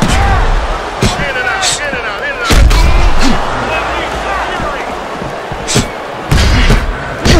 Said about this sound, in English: what an intense hook landed by the cannon